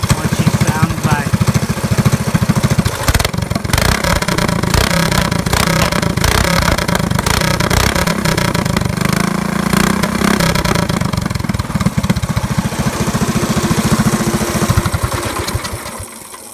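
A Predator 212cc 6.5 hp small engine on a go-kart, raised on a jack stand with one wheel spinning, runs loud and steady throughout with rough revving, while someone talks over it.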